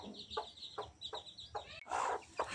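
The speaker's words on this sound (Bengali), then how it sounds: "মুরগিটা আমি একাই ধরলাম" A hen clucking while being caught, a run of short, close, agitated clucks repeating about twice a second, ending in a louder squawk and flutter.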